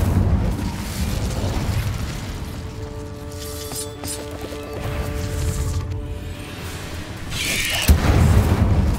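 In Hogwarts Legacy, the Incendio fire spell roars out as a sustained rushing, crackling burst with a brief ringing tone in the middle and a fresh flare near the end, loud and close.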